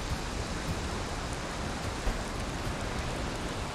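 Steady rain falls in the video game Valheim, a dense, even hiss that stays constant and moderately loud for the whole stretch, with no talking.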